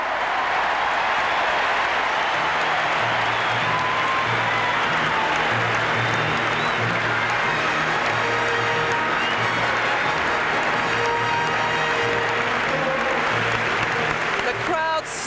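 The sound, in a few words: stadium crowd clapping wildly at opening ceremony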